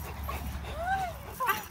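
A puppy whimpers in a few short high rising whines, close by, while a person talks to it affectionately in between.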